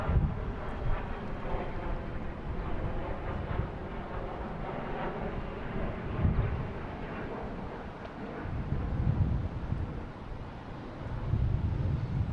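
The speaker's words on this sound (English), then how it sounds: "Second to take off will be one of my favorite flights, Flight 1620, heading to London Heathrow. It's a JetBlue A321neo." JetBlue A321neo airliner taking off at Boston Logan, bound for London, a steady broadband engine roar with low rumble and wind buffeting, rising and swelling slightly over the whole stretch.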